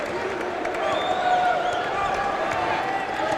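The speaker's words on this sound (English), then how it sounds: "gets some mock applause from the Vanderbilt fans" Scattered mock applause and crowd murmur from Vanderbilt fans in an arena during a basketball game against Wofford, a steady mid-level wash of clapping and voices under a commentator's talk.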